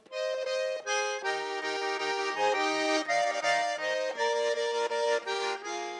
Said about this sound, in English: It's just a little accordion, a diatonic accordion